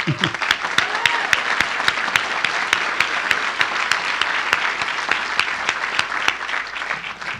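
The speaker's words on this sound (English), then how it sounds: "I think they deserve a round of applause" A crowd applauds loudly at an airport terminal groundbreaking, with a dense, sustained clapping wash and a steady beat of sharp nearby claps throughout, plus a brief voice at the start.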